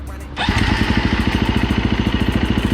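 A KTM six-day enduro motorcycle with an aftermarket exhaust fires up after a brief crank, settling into a loud, steady, pulsing idle close by.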